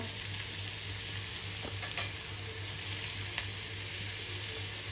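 Finely chopped onion, carrot, tomato and capsicum cook down in a pan with a pinch of salt, giving a steady, even sizzle with a few faint clicks and a low background hum.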